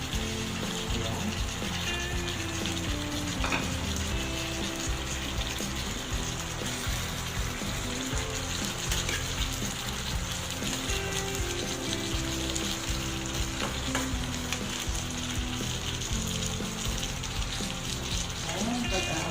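Broccoli sizzling steadily in a hot pan while being stirred, a continuous close frying hiss with occasional scraping, with a voice talking over it at times.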